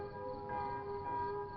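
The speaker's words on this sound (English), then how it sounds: "the curfew bell tolled its warning" A curfew bell tolls at nightfall over hills, a steady sustained ringing tone with lingering overtones that holds throughout, fairly faint and without any voices.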